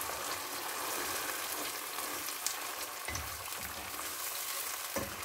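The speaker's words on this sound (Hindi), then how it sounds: "और इनको ऐड करने के बाद हम अच्छे से करेंगे मिक्स" Green chillies with arvi and baingan sizzle and fry in a pan as they are stirred, giving a continuous crackle with occasional soft scrapes and no talking.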